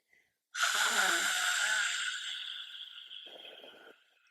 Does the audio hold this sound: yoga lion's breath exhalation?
yes